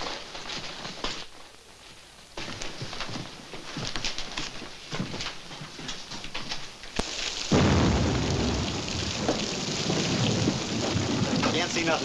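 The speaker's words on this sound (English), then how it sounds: "Can't see nothing in this rain." Steady heavy rain pours through a stormy night in the Old West, with thunder rolling in several times and a loud, close crack that leaves the downpour roaring more heavily afterward.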